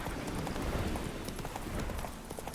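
Roach, a horse in the video game The Witcher 3, gallops with steady, rapid clip-clop hoofbeats that run continuously at a close, even loudness.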